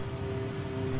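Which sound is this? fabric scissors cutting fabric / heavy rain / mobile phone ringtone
heavy rain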